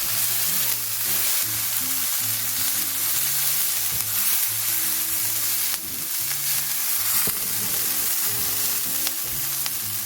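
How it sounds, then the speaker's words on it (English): Onions for chicken biryani frying in oil and being stirred constantly in a pan, a continuous dense sizzle with repeated scraping and shuffling of a spoon, close and loud throughout. "constantly move your onions around and stir"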